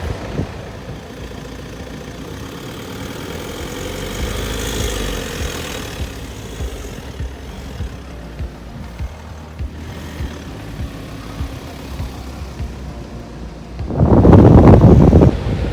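A VW T6 4motion van with Trakkadu AT tyres drives out of a boggy patch on Maxtrax recovery boards, engine droning under heavy wind buffeting, rising into a louder surge of revving and spinning near the end.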